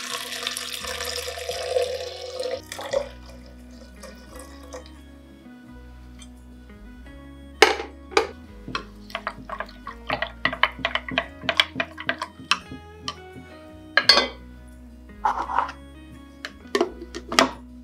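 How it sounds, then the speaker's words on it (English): A heated milk and mint drink is stirred in a jug. Soft rushing comes first, then a long run of light, close clinks and taps of irregular rhythm. "Stir the beverage."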